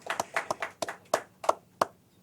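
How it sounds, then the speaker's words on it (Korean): A church congregation claps hands during a Sunday morning worship service, in a rhythmic run of about eight distinct, fairly close claps at a steady pace, with no talking. "박수도 한번 쳐주세요"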